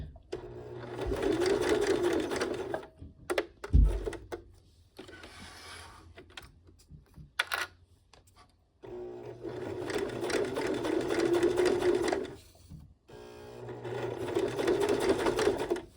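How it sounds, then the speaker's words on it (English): A sewing machine stitches a fabric sling in loud, fast mechanical runs with pauses between them as the fabric is pivoted at the corners, with a sharp clunk and light handling noises during the breaks. "I come to my corners here, I'm just picking up my presser foot and pivoting."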